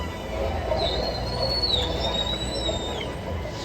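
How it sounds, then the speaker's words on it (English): Orcas in a pod at a SeaWorld San Diego show whistle, with a thin rising-and-falling tone drawn out for a couple of seconds over a constant noisy crowd and venue background. "Whistles to socialize in the pod."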